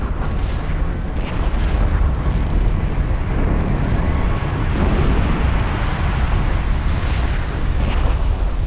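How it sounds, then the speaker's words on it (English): Continuous loud, heavy rumble of a volcanic island eruption, such as Santorini, with deep booming blasts and roaring texture throughout, no voices. "the island burst open in a series of gigantic explosions"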